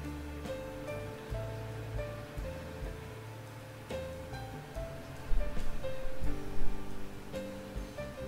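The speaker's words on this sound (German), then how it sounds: "Oh, das gießt wie Sau." Heavy rain in a farming video game, a steady wash of downpour mixed with game music, growing louder near the end.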